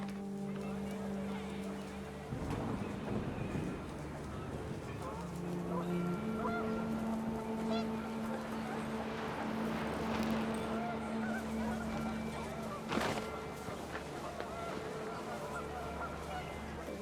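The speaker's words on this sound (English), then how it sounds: "The wind picked up, and panicked geese appeared and quickly went." Geese honk in a panic during a windy outdoor scene in the video game What Remains of Edith Finch, the calls rising over a steady, dense game ambience and sustained background tones.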